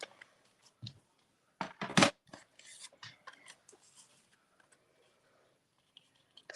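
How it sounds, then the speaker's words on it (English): A cardstock card has its bottom edge trimmed, giving a few short, close cutting and rasping strokes with small clicks and quiet pauses between them. "So I am going to trim that bottom off."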